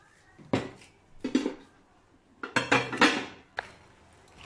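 Chopped tomatoes tipped into a cooking pot with eggplant and vegetables, heard as a few wet clattering bursts of pieces hitting metal, the spoon clinking against the pot, close up with quiet pauses between.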